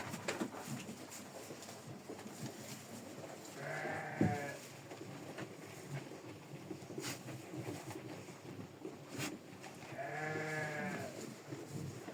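Sheep and lambs bleating at feeding time in a straw-bedded pen, two clear bleats some seconds apart over quiet rustling and faint background noise.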